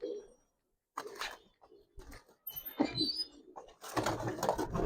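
Giribaz and coloured pigeons, including a female, coo softly and flap their wings in bursts, with someone talking close by in between.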